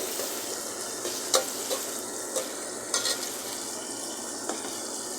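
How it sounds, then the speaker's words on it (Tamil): Potato and cauliflower with turmeric sauté in a pan with a steady, close sizzle, broken by a few brighter clinks and scrapes of stirring. "போட்டு கொஞ்சம் வதங்க விடலாம் மஞ்சள் போட்டாச்சு"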